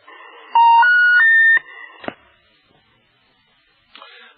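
Electronic beeps from a telephone left off the hook, a short rising run of steady tones, then a sharp click and a brief later burst, loud and alone.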